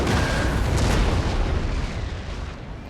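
Cannon fire in the video game Empire Total War: a loud, broad booming blast that rolls on as a rumble, fading slightly over a few seconds.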